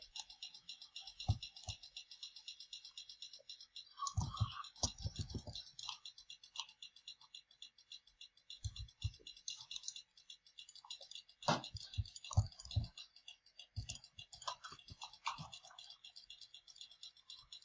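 Background clicking from a sibling runs through the whole stretch, rapid light ticking and rattling clicks like keys or a mouse, with occasional louder bursts of knocks and thumps, all without talk.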